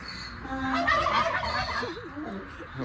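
A turkey gobbles close by in Cyprus, a rapid warbling burst, then a few softer trailing notes.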